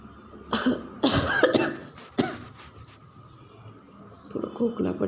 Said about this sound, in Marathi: थोडं खोकला पण झाला आहे